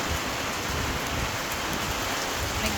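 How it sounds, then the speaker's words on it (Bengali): Steady rain falls as an afternoon windstorm sets in, a constant broadband wash of drops hitting surfaces, close and unbroken, with no voices. "দেখেন কি ঝড় শুরু হয়েছে"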